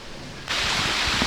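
A creek runs through a park in a canyon with waterfalls, giving a steady broadband rush of flowing water that switches on abruptly and then holds level and fairly loud without a break.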